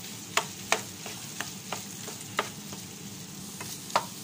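A spatula stirs Kottayam-style beef coconut fry in coconut oil as the stock dries off and the meat darkens. Regular sharp scrapes and taps recur about every half second over a soft, continuous background sizzle, with no talking.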